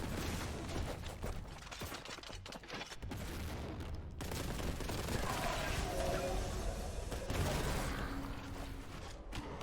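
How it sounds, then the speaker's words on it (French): Gunfire and a grenade blast in the shooter Warhammer 40,000: Boltgun, with dense, continuous shots and bursts running for the whole stretch and a heavier boom partway through, loud and busy throughout. "On va lancer une grenade"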